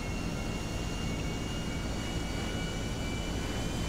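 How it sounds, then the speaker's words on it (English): An airplane accelerates down a runway for takeoff, a loud, steady broadband engine roar with a faint high whine, continuous throughout. "I bet we'll be able to take off before we hit the runway."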